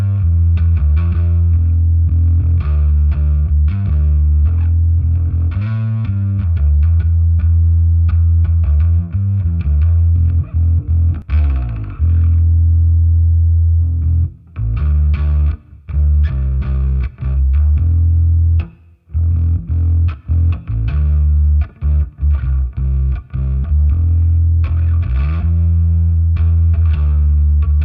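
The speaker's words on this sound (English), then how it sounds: "Again, this is the Ages by Walrus Audio overdrive." Bass guitar played through a Walrus Audio Ages overdrive pedal, a thick, gritty distorted tone sounding a continuous riff of sustained notes with a few brief gaps, loud and up close with no talking.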